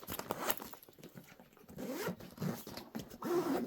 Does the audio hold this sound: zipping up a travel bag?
yes